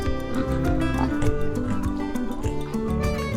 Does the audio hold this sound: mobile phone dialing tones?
no